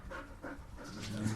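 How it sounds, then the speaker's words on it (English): A dog pants steadily nearby, quick breathy huffs repeating in an even rhythm, fairly soft and with no other sounds. "What you just heard is my dog, Indy."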